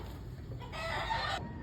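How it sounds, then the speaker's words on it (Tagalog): A rooster up on a roof gives a short, faint crowing call that lasts under a second over quiet outdoor background noise. "May potential yung manok na to. Sa bubong."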